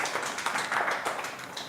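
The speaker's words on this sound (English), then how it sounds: "Round of applause to Mr. Hillary." Audience applause at an inter-faith conference on climate and environment, a steady wash of many hands clapping across the whole stretch at moderate, even loudness, with no clear voice on top.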